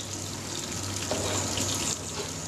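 Water pouring steadily into a grain mash while brewing a Double IPA, a continuous close gush and splash that swells briefly midway, with no talking.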